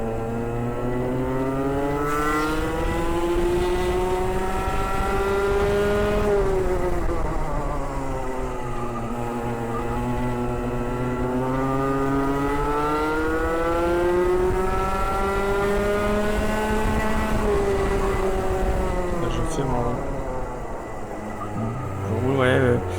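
Rotax two-stroke racing kart engine during a race at Circuit de l'Europe, a loud, close, buzzing whine rising and falling steadily with speed through corners for the whole stretch, with talk over it.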